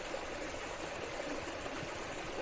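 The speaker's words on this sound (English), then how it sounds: "Join me by the waterfall" A waterfall in Makiki Valley, Hawaii, gives off a steady broadband rush of falling water, even and continuous, at moderate level with nothing else standing out.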